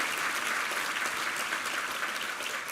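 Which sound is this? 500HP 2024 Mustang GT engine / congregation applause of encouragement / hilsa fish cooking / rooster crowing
congregation applause of encouragement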